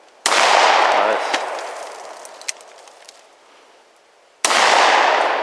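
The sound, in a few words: Smith & Wesson Governor revolver firing buckshot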